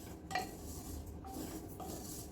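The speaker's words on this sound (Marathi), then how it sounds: "आता तीळ आपण कढईमध्ये घालूया. मीडियम गॅसवरतीच भाजून घ्यायचे आपल्याला." Sesame seeds dry-roast over medium heat in a kadhai, a quiet scene of a few light metallic clinks and scrapes as a spoon stirs them, with a soft hiss beneath.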